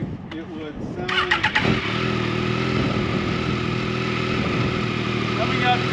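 A voice imitates a motorcycle engine revving up, rising from a short burst into a sustained buzzing drone, close and fairly loud, during a street riding lecture about a Yamaha bike.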